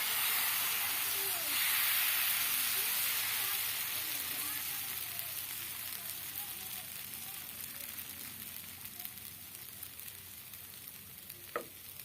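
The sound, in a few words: dosa batter sizzling on a hot tawa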